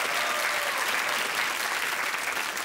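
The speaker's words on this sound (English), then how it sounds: "Give them a round of applause." A studio audience on a supermarket game show gives a short burst of loud, dense, continuous applause, with no voices on top.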